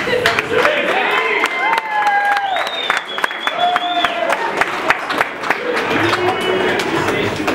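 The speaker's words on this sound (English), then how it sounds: "one more big round of applause" Wedding guests break into loud, sustained applause mixed with cheers and whoops after a toast to the bride and groom. Dense clapping fills the whole stretch, and high shouts and whistles rise above it.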